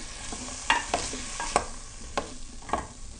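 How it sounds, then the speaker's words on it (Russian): Button mushrooms being stirred in a pot of boiling marinade: a few distinct spoon knocks and scrapes over a steady bubbling hiss, close and moderately loud, with no talking. "Перемешиваем."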